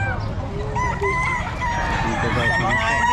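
Boston Sweater gamefowl rooster crowing at a farm with other chickens clucking around it, a loud, steady, busy poultry din throughout.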